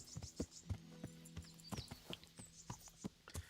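Horse hooves clip-clopping in Kingdom Come: Deliverance, a steady walking rhythm of light, close hoof falls with faint ambient game sounds behind.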